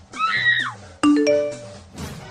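A phone chimes with a short message notification tone, a bright ringing ding set indoors amid a household comedy scene, heard clearly and alone with no talk over it.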